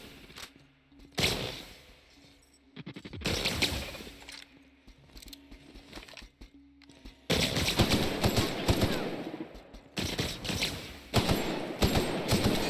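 Gunfire from The Outer Worlds video game, where a shotgun is being fired, comes in loud bursts of blasts separated by quieter gaps, then a dense stretch of rapid shots in the second half.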